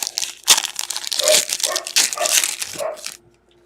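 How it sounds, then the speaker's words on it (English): Dogs outdoors squabbling, with rough barks and growly yelps in bursts over about three seconds, fairly close and loud, mixed with crinkly noise before fading out. "my dogs sound like they're having an argument out there"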